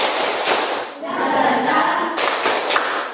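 A junior high class in Indonesia performs a spirited group clap, standing in the classroom: loud, rhythmic bursts of many hands clapping in patterns, with a sustained stretch of noisy clapping in the middle.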